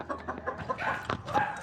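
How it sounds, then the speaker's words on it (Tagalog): Backyard chickens cluck in a quick, irregular series of short calls, fairly close and moderately loud, with no talking over them. "Yung mga manok natin."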